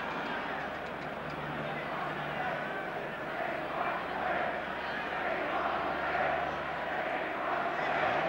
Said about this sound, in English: Can hear what the crowd want.